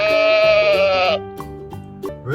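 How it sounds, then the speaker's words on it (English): A toy animal plays a sheep bleating, one loud drawn-out bleat followed by soft clicks and short tonal blips, with no talk. "Sheep."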